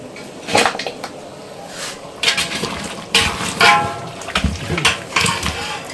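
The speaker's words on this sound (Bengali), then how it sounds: "এখন চিকেনটা ছেঁকে তুলে নিচ্ছি" Half-boiled chicken for biryani is strained out of a cooking pot, bringing several loud metallic clanks and knocks of pot and utensils, faint liquid sounds and short pauses between them.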